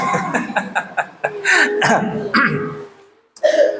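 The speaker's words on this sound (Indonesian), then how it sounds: "gemetarnya sampai batuk-batuk ini." Someone clears their throat and coughs several times in short bursts up close, during a religious lecture, with a brief vocal sound near the end.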